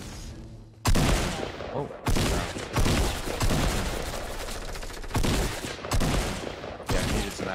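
Bursts of gunfire ring out in Fortnite Battle Royale, several loud, close volleys a second or so apart, with a player briefly exclaiming between them.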